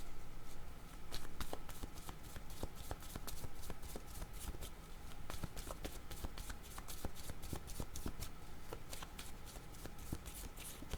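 A deck of cards is shuffled again and again at close range, a rapid run of crisp riffling clicks that goes on without a break. The sound is fairly quiet and no one speaks.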